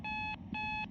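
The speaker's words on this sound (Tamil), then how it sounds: "அலாரம் தாக்கணும்." An alarm clock in a horror video game rings in two clear electronic beep bursts separated by a short gap, bright and steady, with no talking.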